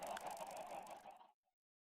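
A huge flock of chickens in a PC video game makes a dense, loud mass of overlapping clucks and squawks that cuts off abruptly after about a second.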